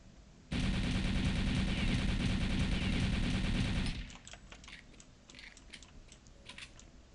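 Sustained automatic gunfire from test shots in the game Return to Castle Wolfenstein, a loud unbroken burst of about three and a half seconds, followed by scattered faint clicks and ticks.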